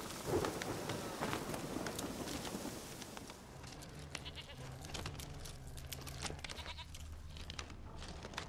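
Storm rain pours down steadily in the video game The Witcher 3, a continuous hissing downpour with a deeper rumble beneath, while brief animal bleats and other game noises sound early on.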